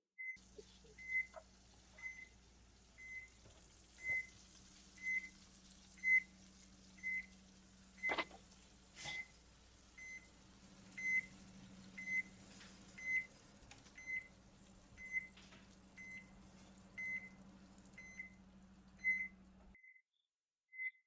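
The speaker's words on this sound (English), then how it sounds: "As you can hear, our alarm is going off." A cooking thermometer alarm beeps in short, evenly spaced chirps over a low steady hum, with a few faint clinks in the background, as a roast chicken reaches temperature.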